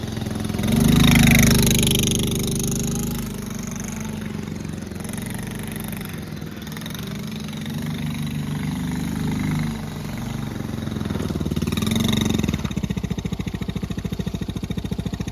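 A Honda Z50A minibike, the street-legal Japanese version, idles with a steady low putter that rises briefly near the start and again toward the end, running close by with no talking.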